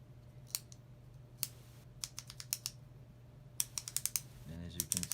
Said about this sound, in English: That whole rubber band assembly rotates with a little clicking sound.